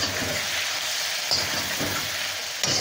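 Mutton karahi sizzling steadily in the pan as roasted, crushed cumin is stirred in, with a continuous close frying hiss and a few soft scraping strokes of the spoon.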